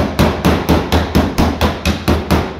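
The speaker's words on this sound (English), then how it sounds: "but I'm hammering here." Metal hammering on a van roof, with a dolly held against the back edge: about ten loud, close, evenly spaced blows ringing in a steady rhythm, with no one talking.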